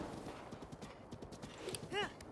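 Horse hooves in Breath of the Wild clip-clop at a quick, even trot, fairly faint under a busy background, with a short whinny-like call near the end.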